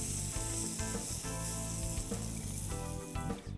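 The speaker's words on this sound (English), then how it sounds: "And now we need to mix all of this nicely and evenly." Pav bhaji mash of potatoes, peas and tomatoes being stirred in a hot pan, a steady close sizzle with scraping stir strokes throughout, no talking.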